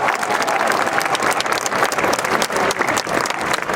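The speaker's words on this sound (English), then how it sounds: "Let's please give all of our regents a round of applause" A graduation audience applauds the regents, dense sustained clapping from a large crowd filling the hall steadily for several seconds.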